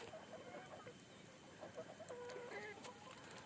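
Chickens clucking in a poultry farm in India, a steady overlapping chorus of hens with short pitched calls and a few louder nearby clucks, moderately close, with no speech over them.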